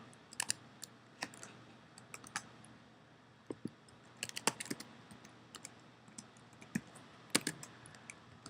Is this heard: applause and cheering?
no